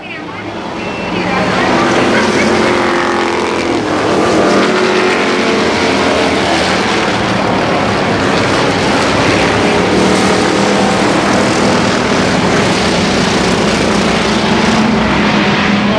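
Super late model race cars roaring around Columbus Motor Speedway in a 1990 feature race, engines droning loud and continuous from near the track, with an announcer talking over them.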